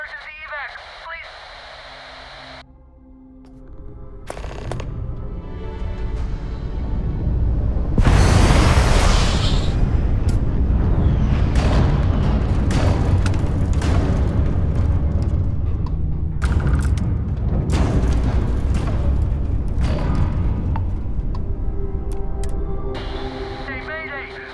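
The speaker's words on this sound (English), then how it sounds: "Explosion, high energy research lab. Massive damage." An explosion at a high-energy research lab in Starfield, a video game, sounds as a long, loud roaring blast and rumble that sustains for many seconds. Distorted radio distress calls play over and around it.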